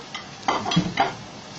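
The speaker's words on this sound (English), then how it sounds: "I put the cooking oil in, and it was already hot. We now have the onions, which I have to mix for 2 minutes" Onions are stirred in hot cooking oil in a large pan, giving a low sizzle broken by two or three scraping, clattering stir strokes.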